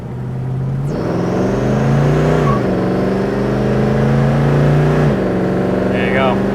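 A 1972 Chevrolet Chevelle SS engine pulls away and accelerates through rising revs with a gear change, loud and close from inside the car, with someone talking over it.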